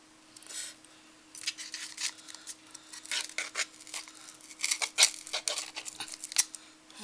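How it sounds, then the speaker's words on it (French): Small, fine scissors snip and scrape through a recycled coffee pot, a run of close, irregular crisp cuts and rasping rubs with brief pauses between them. "Je vais prendre un petit ciseau fin."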